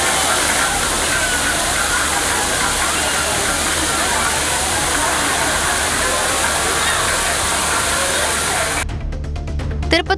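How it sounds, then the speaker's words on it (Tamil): A waterfall pours down with a dense, steady roar of rushing water, loud and close throughout, ending abruptly as the scene cuts away. "அருவியிலும் தண்ணீர் மிதமாக கொட்டி வருகிறது"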